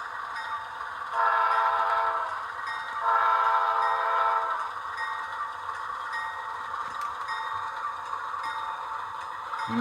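A model train locomotive with a LokSound 4.0 decoder sounds a custom horn in two sustained blasts, separated by a short gap, over a steady background of engine and decoder sound, with no talking.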